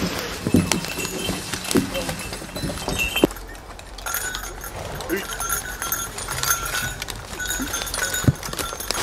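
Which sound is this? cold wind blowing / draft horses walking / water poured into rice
draft horses walking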